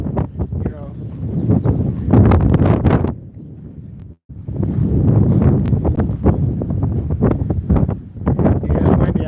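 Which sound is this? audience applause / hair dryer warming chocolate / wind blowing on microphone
wind blowing on microphone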